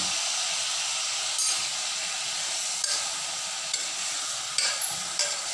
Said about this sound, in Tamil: அதோட கட்டின இஞ்சியும் பூண்டையும் போட்டுக்கிறணும்.